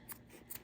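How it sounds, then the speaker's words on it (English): Scissors snip twice while trimming fabric, two quick, soft cuts spaced about half a second apart, close and faint, with no voices. "trim this fabric"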